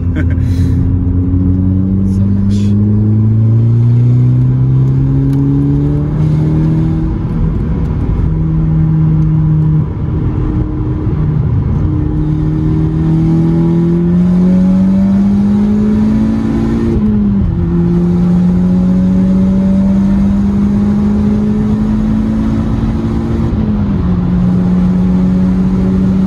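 A VW Golf 5 GTI Edition 30 at Stage 2+ accelerates hard through several gears, its loud engine note climbing in pitch, dropping at each shift and climbing again, with occupants talking over it.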